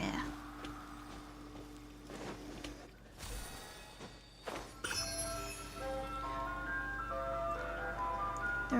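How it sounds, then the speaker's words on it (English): A tinkling ice cream truck jingle plays in Genshin Impact, a bright music-box melody rising over background game ambience and footsteps, moderately loud and continuous. "There is an ice cream truck among us."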